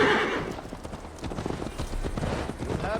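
Horse hooves clip-clop at a steady riding pace in Assassin's Creed Valhalla, close and clear, with a whinny and some faint game sound around them.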